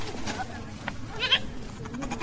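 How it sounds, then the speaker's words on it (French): Goats from a small herd kept with cattle in front of a yard give a short bleat amid outdoor noise, with a voice talking in the background. "Mamadou Diko garde une dizaine de bœufs et de chèvres devant sa cour"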